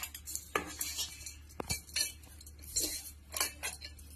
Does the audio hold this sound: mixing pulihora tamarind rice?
yes